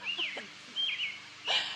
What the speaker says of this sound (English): a really loud bird over my shoulder